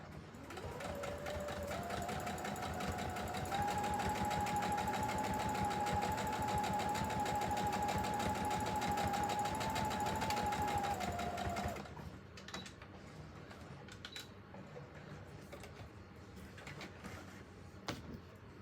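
Sewing machine stitching around the corner of an emoji pillow: a loud, continuous rapid whir that rises slightly in speed, then cuts off, leaving quieter handling clicks and faint movement.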